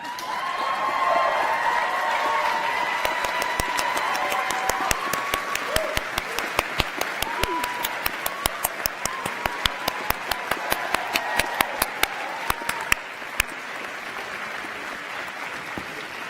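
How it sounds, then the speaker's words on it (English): A graduation ceremony audience applauds together, a dense, sustained wash of clapping with distinct sharp nearby claps in the middle, slowly thinning toward the end. "give their family, friends and their teachers and staff a massive round of applause"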